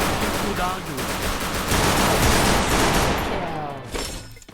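Automatic gunfire in the Free Fire battle royale game, rapid dense bursts of shots rattling on for several seconds, loud and close, trailing off near the end, with a player talking over it.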